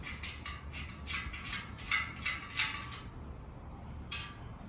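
A nut is threaded onto a tubeless valve in a mountain bike rim, giving a series of short close metallic ticks and clicks in an irregular rhythm over quiet background.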